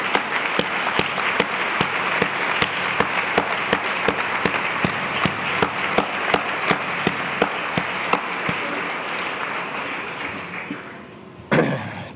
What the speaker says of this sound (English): I'd like for all of you all to give them applause, recognizing their tremendous contributions